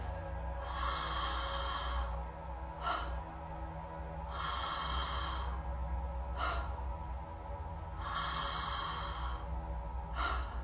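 Slow, deep belly breathing during a calm gratitude breath exercise: three long, audible inhales and exhales close up, each followed by a short pause, with no talking.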